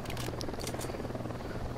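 A phantom helicopter from a video game gives off a steady, faint low rotor drone that stays constant throughout, with a few light high-pitched blips above it.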